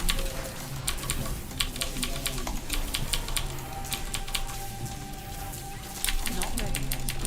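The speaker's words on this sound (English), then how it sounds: "I like the sound of the keyboard." Rapid clicking keystrokes from a mechanical computer keyboard, steady and close throughout, with people talking faintly over them.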